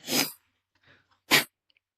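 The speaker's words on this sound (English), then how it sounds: "I'm gonna sneeze again." Two sharp sneezes, loud and close, separated by a short pause with a faint breath between them.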